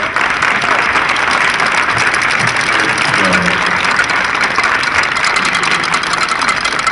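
Broad, dense crowd applause fills an anti-bullying rally hall, loud and continuous throughout, with no voices rising above the clapping.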